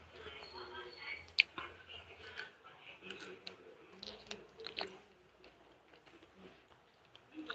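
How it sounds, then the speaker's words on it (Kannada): Fruit being chewed and eaten after a meal: soft, close mouth noises and small bites come in an irregular rhythm, faint throughout, with a few sharper clicks and quiet breathy sounds. "ನೀವು ಬನ್ನಿ ಫ್ರೂಟ್ಸ್ ತಿನ್ನೋಣ"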